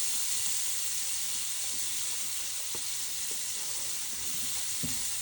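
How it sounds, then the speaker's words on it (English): Chopped scallions and onions sizzle steadily in a hot pan for coconut curry chickpeas, a continuous loud frying hiss with no voices over it. "I'm going to add my chopped scallion. And I'm going to add the onions."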